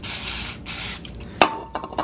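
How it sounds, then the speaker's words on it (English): A hissing spray of brake cleaner onto a steel wool cloth bursts out in two short blasts, close by, followed by a few faint clicks and light rattles. "and I spray it with brake cleaner"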